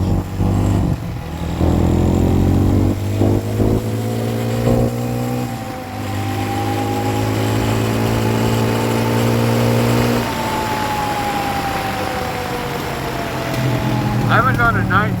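A Suzuki LTZ 250 ATV engine running in the woods at night, close and loud, holding a steady drone, then climbing in pitch as it revs up before easing back down, while someone talks over it.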